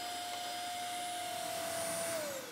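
Vacuum cleaner cleaning the dust trap of a pellet stove, a steady broadband whooshing roar with a sustained whine that drops slightly in pitch near the end, constant and fairly close.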